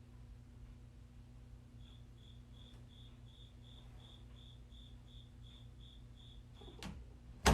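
A loud indoor cricket, heard as if inside a closet, gives a long, evenly spaced run of about fourteen short chirps over a low background hum, then falls silent just before a sharp click near the end.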